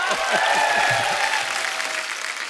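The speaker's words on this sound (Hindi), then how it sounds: "जोरदार तालियां हो जाए।" A TV comedy show studio audience applauds steadily, a dense wash of clapping that holds and then slowly fades slightly.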